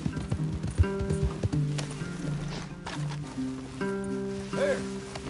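Horse hooves clip-clop and a horse snorts in the video game Red Dead Redemption 2, over a layered game soundtrack with tonal music, ending with a short whinny.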